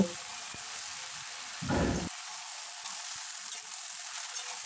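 Drained, soaked jujubes (kul) with dried red chillies and five-spice tempering hit hot oil for a pickle, giving a loud, steady sizzle throughout with a brief heavier crackle burst early on.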